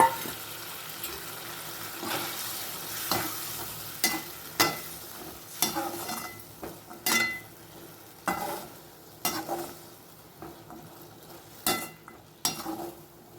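Mochai bean gravy bubbles in a pan while a spoon stirs it, giving a soft simmering sizzle broken by regular scraping and clinking strokes, close and with no talk.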